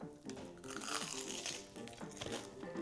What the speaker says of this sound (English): Did you guys hear that crunch?